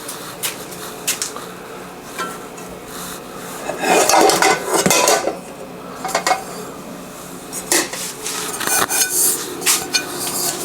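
Heavy cooking pans and pots are washed and scrubbed, giving irregular metallic clanks, scraping and rubbing knocks, louder bursts mid-way and near the end, close up with no talk.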